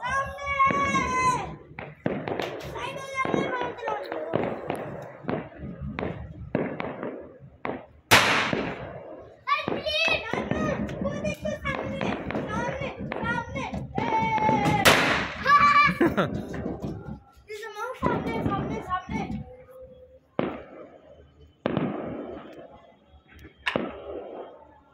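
Firecrackers going off during a small Diwali-style celebration for Guru Nanak's birthday, with whizzing, whistling rockets and sharp cracks scattered through excited children's voices and chatter.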